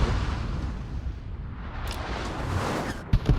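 Heavy naval guns boom in a World of Warships battle, a deep rumbling barrage of cannon fire and blasts rolling continuously, with a sharp closer report near the end.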